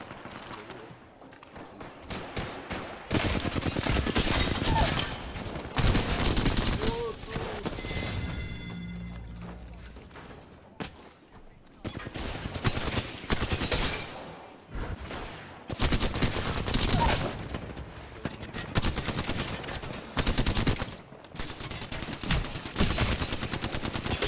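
Rapid automatic weapon fire in the battle-royale shooter Apex Legends, loud dense bursts with short pauses between volleys, continuing across the whole stretch with no talk.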